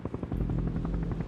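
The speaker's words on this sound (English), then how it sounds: "Helicopter." A helicopter flies over a snowy wilderness, its rotor beat a steady low thudding pulse that stays loud and close throughout, with no talking.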